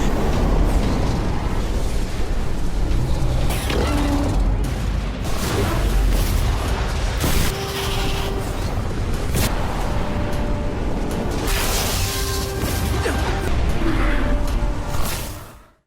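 Loud, continuous explosions and whooshing blasts fill an animated battle between two dragon kings, with booming impacts and roaring bursts that barely let up before a sudden fade at the end.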